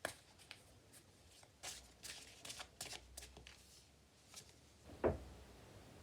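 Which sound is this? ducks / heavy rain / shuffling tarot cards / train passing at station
shuffling tarot cards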